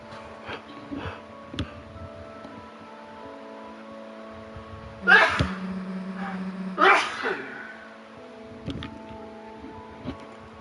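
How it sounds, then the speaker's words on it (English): A single sneeze bursts out from someone at the back of a bus, a loud close blast with a second sharp burst soon after, over a steady low engine hum with quiet background sounds. "Sorry about the sneeze."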